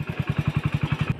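A motorcycle engine idles in a fast, even putter close by, a steady run of regular low thumps roughly ten to the second, heard alone on a road near Debrigarh Wildlife Sanctuary in Odisha.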